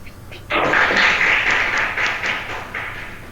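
A small group gives a burst of applause after a quiz answer, dense clapping that starts abruptly and tapers off over a few seconds, fairly close and without talk.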